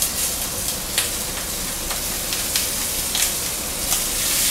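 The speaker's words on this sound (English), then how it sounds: "We want a nice sear on these." Meat searing in a very hot pan, sprinkled with salt: a steady loud sizzle and hiss that runs the whole time with small crackling pops, and no talking over it.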